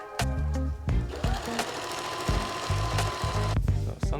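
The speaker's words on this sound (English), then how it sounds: "So I like to sew this part very close to the edge." A sewing machine stitches close to the edge of lightweight underquilt fabric in quick rhythmic runs of needle chatter, starting and stopping several times at close range.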